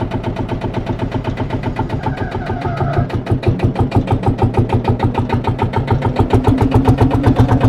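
A tractor engine cranks over and fires up, settling into a loud, close, rhythmic chugging run with steady regular pulses that grow slightly stronger toward the end.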